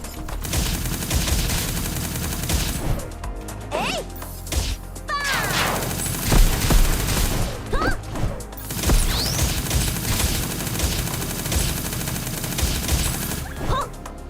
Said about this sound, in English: Wonder what's shooting at the enemies here.